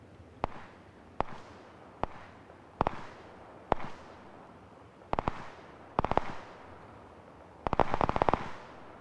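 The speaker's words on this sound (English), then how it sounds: "listen to a sound of this weapon unsuppressed firing at range" The P18C pistol in PUBG fires unsuppressed at range, giving faint, distant cracks: several single shots spaced about a second apart, then a quick burst of shots near the end.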